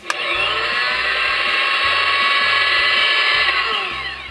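A toy doll-cafe coffee machine emits a loud, steady electronic whirring hum with a faint rhythmic pulsing underneath, sustained for several seconds before tapering off.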